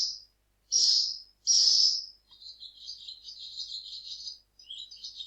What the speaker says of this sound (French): C'est une hirondelle.